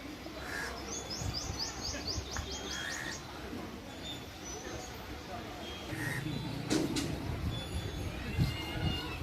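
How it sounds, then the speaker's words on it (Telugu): Birds chirp at Uppalapadu bird sanctuary near Guntur, with quick trilling calls and scattered tweets over a rustling outdoor background, and a voice faintly present at times. "చూడొచ్చు పక్షులు ఎలా ఎగురుతున్నాయో."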